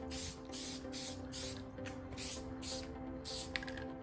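Aerosol can spraying Plasti Dip onto a Tesla Model 3 badge, six or seven short hissing bursts in an even rhythm, close and fairly faint, with a low hum between them.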